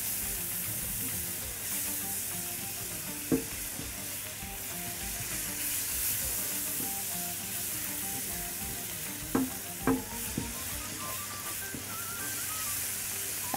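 Chicken frying in a pan with pomegranate sauce while being stirred, a steady loud sizzle throughout with occasional sharp clinks of the utensil against the pan.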